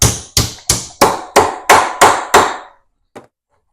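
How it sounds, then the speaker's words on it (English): Eight sharp, evenly spaced blows of a body hammer striking sheet metal while bending a toolbox part, loud and ringing briefly after each hit, followed by a pause and one lighter final tap. "In this case, I will enlist the body hammer."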